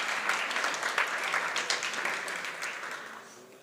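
A crowd applauding a finish at a jigsaw puzzle national championship, dense clapping that is loud at first and gradually fades over a few seconds.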